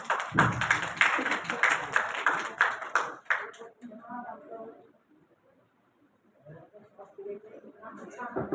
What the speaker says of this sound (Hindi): कृपया तालियों में कंजूसी ना करें।